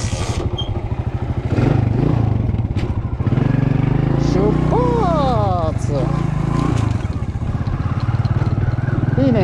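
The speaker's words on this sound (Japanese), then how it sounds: "昼間乗ったからエンジンが一発でかかったよ。" A warm motorbike engine starts on the first try and idles with a rapid, low putter close by at night in a Cambodian city, while a person talks over it for a while.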